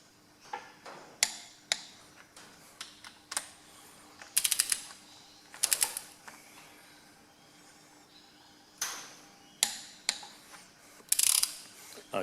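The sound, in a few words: torque wrench ratcheting while tightening Ferguson TE20 cylinder head bolts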